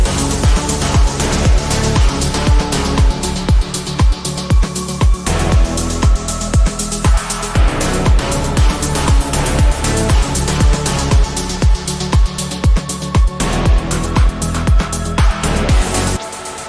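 Instrumental remake of a song's loop with the vocal left out: steady punchy kick drums driving a dense, loud electronic track with sustained synth layers, no voice present.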